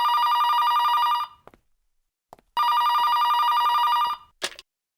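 A telephone bell rings loudly in two long, clear bursts separated by a pause, with a few small clicks between them and a short sharp sound at the end.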